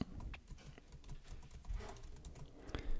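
Quiet, irregular clicking of computer keyboard keys as an email address is typed, with keystrokes in uneven bursts and no talking.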